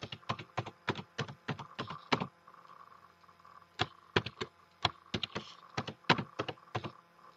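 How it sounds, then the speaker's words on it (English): Keys clatter on a computer keyboard as a password is typed: quick bursts of crisp taps, a short pause, then another run of keystrokes, close and clear with no talking. "So we type in the current password."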